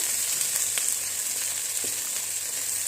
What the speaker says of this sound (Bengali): আমার ভাজাটা প্রায় হয়ে গেছে